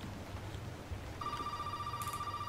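A telephone rings in Resident Evil 7, a bright electronic trill that cuts in partway through over a low stormy background, fairly faint and steady.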